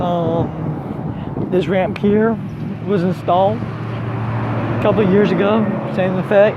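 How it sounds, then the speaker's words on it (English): Steady road traffic rumbles beside a church as someone speaks almost throughout, the low vehicle drone running continuously underneath his voice. "Excuse the noise on the traffic here."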